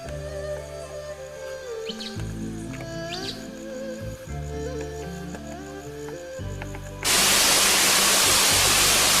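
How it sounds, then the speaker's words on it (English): Waterfall in Litchfield National Park, Northern Territory, rising into a loud, steady, close rushing roar over the final two seconds after a quieter stretch of layered tonal sounds. "we've got to the waterfall, as you can probably hear in the background"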